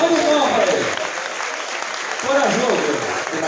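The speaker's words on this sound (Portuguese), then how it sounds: "Salva de palmas para ele." An audience at a symposium claps in a steady, full round of applause that continues throughout, with a voice briefly audible beneath it.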